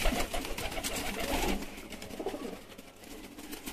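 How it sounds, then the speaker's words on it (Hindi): Pigeons coo softly at a rooftop pigeon loft in Lahore, a low, fairly distant murmur of calls over steady outdoor background noise. "ये देखे जरा बहुत बहुत नयाब कबूतर है"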